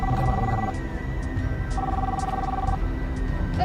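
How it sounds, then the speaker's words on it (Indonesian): A telephone rings in an indoor setting, two bursts of electronic ringing tone spaced apart under a steady noisy background hum. "Itu ada telepon kenapa nggak diangkat mas?"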